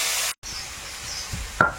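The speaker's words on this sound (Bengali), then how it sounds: "তো এইবারে চিংড়ি মাছটা ভাজবো।" Prawns rubbed with turmeric and salt sizzle in hot oil in a wok, a steady close frying hiss with a brief break and small stirring clatters toward the end.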